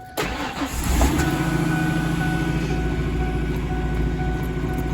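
A Ford F-150 pickup truck engine rumbles steadily at close range after starting up, a deep continuous idle in neutral with a low mechanical drone and no talking.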